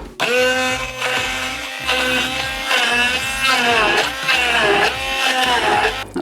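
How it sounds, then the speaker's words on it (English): A modestly powered stick blender whirs steadily through herbs and other ingredients for a pani puri paste, loud and close, its motor pitch wavering as the blade bogs down and frees up, with no talking. "This stick blender isn't the most highly powered."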